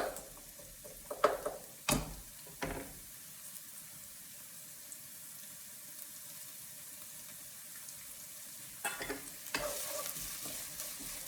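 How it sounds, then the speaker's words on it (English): Steady sizzling of food in a hot pan, with a few louder clatters and stirring scrapes early on and again near the end. "So that's going to start to sizzle."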